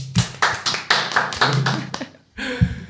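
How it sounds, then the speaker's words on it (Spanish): A few claps and taps from a small studio audience welcoming a guest on a Spanish mental-health talk show, irregular bursts of close hand sounds with a short pause before a final burst. "Un aplauso para Noé, por favor."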